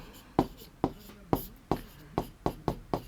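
Chalk or marker writing on a classroom board, heard as a series of about eight sharp, evenly spaced taps and scrapes, close and fairly quiet.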